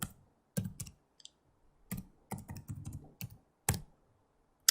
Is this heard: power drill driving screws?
no